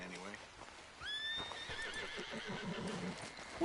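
A horse in Red Dead Redemption 2 gives a loud, spooked neigh with a rising, wavering whinny, followed by hoof clip-clops and a character speaking over the scene.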